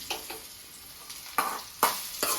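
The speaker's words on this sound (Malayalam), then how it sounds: "ചട്ടി ആവുകൊണ്ട് സ്റ്റവ് ഓഫാക്കിയിട്ടും തിളക്കുന്നുണ്ട്" Fish curry still bubbling in a hot clay pot after the stove is turned off, heard as several sharp, sputtering bursts at uneven intervals against a faint hiss.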